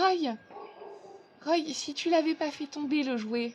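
A playful dog whines and whimpers in high, wavering cries that rise and fall, heard under someone speaking French.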